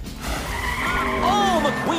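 A race car from the Disney Cars film skids and nearly crashes, tires squealing in long rising and falling whines over engine roar, loud and close, while a voice speaks over it.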